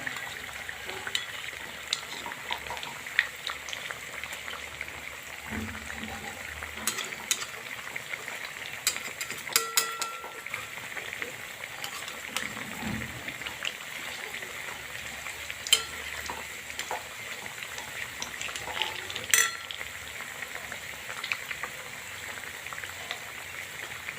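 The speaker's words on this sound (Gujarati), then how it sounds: "બહુ સરસ મજાના તરાઈ રહ્યા છે" Soft, steady sizzling of bottle gourd pakoras frying in oil, quiet and continuous, with occasional light clinks of a spoon stirring.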